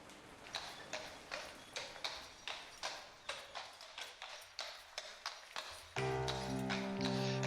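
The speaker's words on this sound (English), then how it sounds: "What a beautifully pixelated horse." A horse's hooves clip-clop in The Last Door 2 video game, a steady rhythm of about a dozen crisp hoof strikes, moderately near, before a sustained tonal music-like sound takes over near the end.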